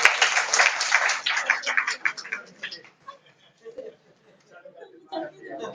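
An audience at a satsang breaks into loud, dense clapping at the start, then it thins into scattered claps and fades, with voices talking underneath and afterward.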